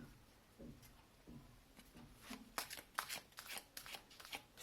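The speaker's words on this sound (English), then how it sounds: "Let's pull some oracle cards." A deck of oracle cards is shuffled close by and quietly. A few soft riffles come first, then a quick run of crisp shuffling snaps, with no voices.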